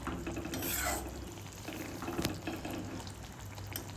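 Hilsa fish and eggplant curry simmering in a pan, a steady low bubbling sizzle with soft stirring and scraping, moderately close and continuous throughout.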